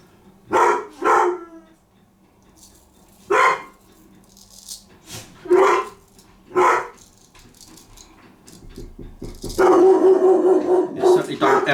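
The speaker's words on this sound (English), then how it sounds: "Excuse my dog. He loves a good bark at the door." A pet dog barks at the door in a home, about six loud, sharp barks spaced a second or two apart, then a rattling scuffle and softer yips toward the end.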